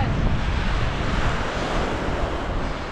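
Strong wind roars across the microphone over the steady wash of crashing surf, a continuous, loud, gusty rumble with no voices.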